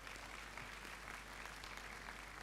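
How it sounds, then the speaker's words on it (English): Faint, distant applause from a gathered audience, an even patter of clapping heard over a low electrical hum, with no speech on top. "Let's give them a round of applause."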